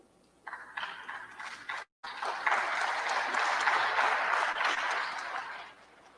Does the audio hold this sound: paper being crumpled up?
no